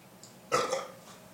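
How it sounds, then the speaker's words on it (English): A single loud, close belch from a man, short and throaty, in a quiet room with no talk over it. "Belching with the Bordeaux."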